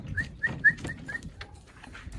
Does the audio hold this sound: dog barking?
yes